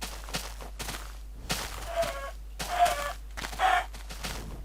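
Chickens cluck in the Minecraft video game, several short bursts of clucking spaced through the stretch, with faint footsteps between them.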